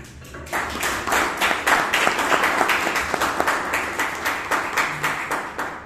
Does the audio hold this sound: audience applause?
yes